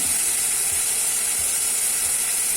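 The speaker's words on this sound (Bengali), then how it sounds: "পেঁয়াজটা একটু ভালো করে ভাজতে হবে।" Onion paste fries in a pan for a Bengali tangra fish curry, giving a steady, loud, close sizzle that hisses evenly throughout with no talking.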